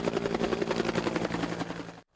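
Police helicopter flying over a Rio de Janeiro favela, its rotor thumping in a steady, loud, close rhythm for about two seconds before cutting off abruptly.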